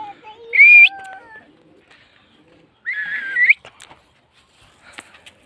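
Pigeons released from a cage give two bright bursts of chirping calls with a whistled note, separated by near silence, then a few faint ticks and rustles.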